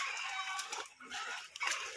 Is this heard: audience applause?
no